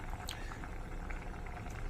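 Ridge gourd and prawn curry with curry leaves simmers in a covered pot, giving a continuous soft bubbling and gentle hiss of boiling liquid, close and steady throughout.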